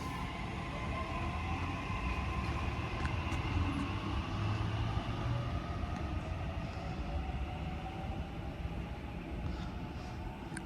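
A suburban commuter train rolls through Erskineville station in Sydney during the afternoon peak, a sustained rumble with rail squeal and clatter holding steady at moderate distance, no one talking.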